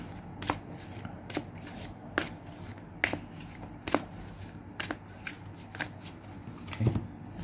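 Tarot cards are shuffled by hand in a series of crisp riffling bursts, about nine evenly spaced flutters close up, with no talk over them.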